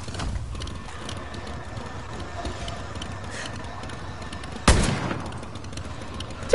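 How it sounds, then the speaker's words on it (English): A single sharp, loud sniper rifle shot in the video game Far Cry New Dawn cracks out partway through, over quiet game ambience with faint mechanical clicks. Another abrupt burst comes right at the end. "I'm gonna get him with my rifle sniper."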